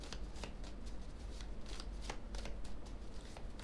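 Tarot cards shuffled and laid out close to the microphone: a steady soft flutter of riffling card edges with brief slaps, fairly faint over low room noise, no speech.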